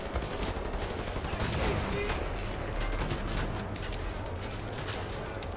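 Shotgun blasts in the video game Wolfenstein: The New Order, a loud, dense run of overlapping gunfire booms with no pause.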